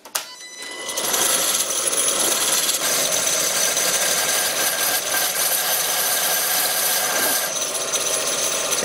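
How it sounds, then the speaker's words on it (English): Wood lathe spinning steadily as a tool turns the domed top of a wooden carver's mallet on a small tool rest, a continuous scraping, rubbing whir that begins after a brief quiet start and holds loud throughout. "Set up the small tool rest that came with the lathe so I can work on the top of the mallet."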